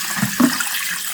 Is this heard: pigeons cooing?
no